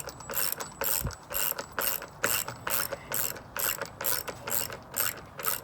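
A ratchet socket wrench cranks a lag bolt with a washer down through wood toward stucco on a covered deck build, giving a close, rhythmic series of clicking strokes with short pauses between pulls.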